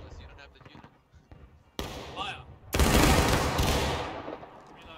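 A massed musket volley in War of Rights, a loud crackling burst of many shots erupting at once and rolling on, preceded by a smaller ragged crack over murmured voices.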